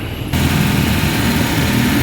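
A car engine runs at a steady idle with the air conditioning switched on, a loud, constant low rumble with a blower hiss that holds unchanged throughout.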